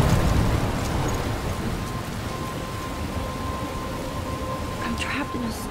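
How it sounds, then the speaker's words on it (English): Steady rain hisses down in a Life Is Strange thunderstorm, a dense, loud wash of noise that fades slightly after the opening, with faint thunder rumbling beneath and a voice briefly heard near the end. "I'm trapped in a storm?"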